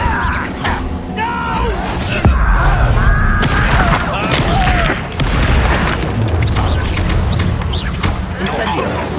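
The Incendio fire spell is cast during a Hogwarts Legacy fight on PS5, with loud booms, crashing impacts and shouted voices packed tightly together across the whole stretch.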